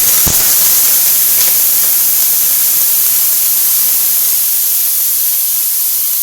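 Water splashed onto a hot, oiled iron griddle over a high gas flame for moong dal dhirade, giving a loud, steady broadband hiss and sizzle with a sharp burst at the start, then a sustained steaming rush throughout.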